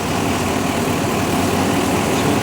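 A John Deere 345R tractor engine idles steadily, a continuous low, rumbling drone that holds even and fairly loud throughout with no talk over it.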